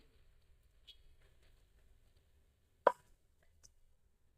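Yogurt goes into a pan of fried ginger-garlic paste while cooking chicken biryani, landing with a single soft, wet plop against an otherwise quiet kitchen background.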